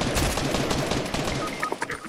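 Dense, steady gunfire in the video game Fortnite during a solo-versus-duos match, a continuous rattle of shots at moderate loudness with no clear pauses.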